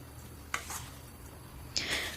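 A spoon stirs chicken, tomato and ginger-garlic paste in a pot, with two sharp metallic scrapes and clinks over a faint sizzling background, close by.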